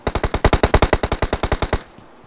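Rapid automatic gunfire in the mobile battle royale game PUBG Mobile: a burst of about fifteen sharp, evenly spaced shots, loud and close, ending abruptly into quiet.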